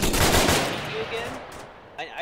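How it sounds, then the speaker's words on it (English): Gunfire in a military video game: a dense, loud burst of rapid shots that fades over a couple of seconds, with a short sharp crack near the end. "Wait for the enemy fire to stop."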